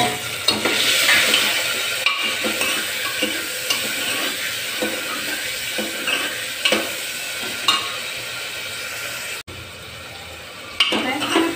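Potatoes fried golden, with tomatoes just added for mor dhan khichdi, sizzling steadily in a pan, with repeated stirring and scraping and occasional utensil knocks against the pot.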